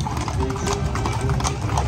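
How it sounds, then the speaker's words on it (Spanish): Horse hooves clip-clop steadily at a horse exhibition during a San Isidro Labrador pilgrimage in Jalisco, a continuous rhythmic clatter under crowd noise and a low rumble. "El caballito de Rancho El Coronel."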